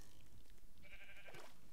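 A sheep bleating in a video game, likely Minecraft, a single short wavering bleat, fairly faint over a steady background hiss.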